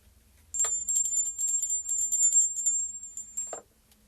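A small handheld bell is rung to clear energy during a tarot reading, giving a rapid, continuous high tinkling shimmer that lasts about three seconds in a quiet room before it stops.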